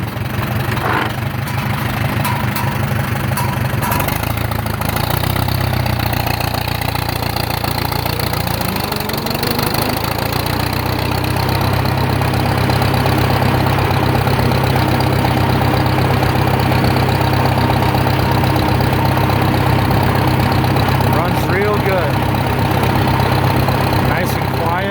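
Rebuilt 1947 Farmall M tractor engine running steadily in fifth gear, a continuous low loud chugging drone that stays close and constant throughout, with some mechanical rattle.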